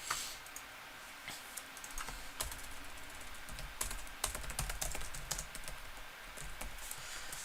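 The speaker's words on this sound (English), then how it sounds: "So I'm typing some numbers." Typing numbers on a computer keyboard, a quick irregular run of close, crisp key clicks with brief pauses, alone without talk.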